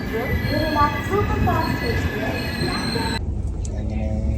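A train rumbles steadily at Ballarshah railway station in Chandrapur district, Maharashtra, with screeching wheel squeals and a broad mechanical roar that suddenly drops off near the end.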